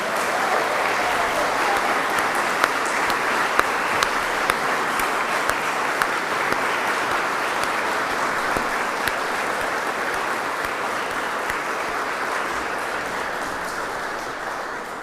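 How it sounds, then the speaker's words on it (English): Sustained applause from a standing audience at the 2023 Victoria Australian of the Year Awards ceremony, a dense steady roar of clapping that holds strong for the whole stretch and eases only slightly at the end. "one more raucous round of applause for our recipients"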